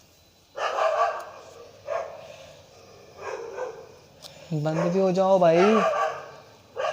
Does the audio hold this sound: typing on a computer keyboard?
no